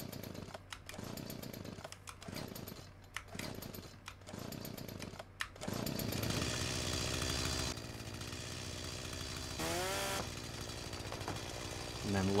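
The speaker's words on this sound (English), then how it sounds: "it does sound like our chainsaw died on us in the middle of that cut there" A chainsaw cuts into a tree, its engine surging in repeated loud bursts, then dropping into a rougher, steadier drone after about five seconds and ending in an uneven sputter as the engine dies mid-cut.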